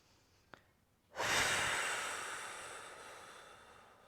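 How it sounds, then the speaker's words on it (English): A deep breath taken during a yoga stretch: after a brief tick, a long, close breathy rush starts suddenly and slowly fades, with no talking. "take one more big breath there"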